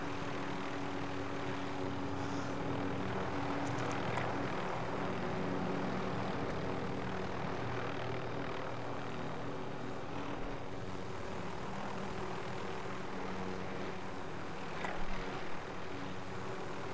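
Aircraft engine drone from a plane flown in Call of Duty: Modern Warfare, a steady, loud broadband roar with a low hum that holds for the whole stretch, with no talk over it.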